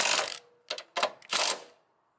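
Torque wrench tightening the nuts on a Subaru front strut bar, sounding as three or four quick mechanical ratcheting bursts, close and fairly loud, with short pauses between them and no talking.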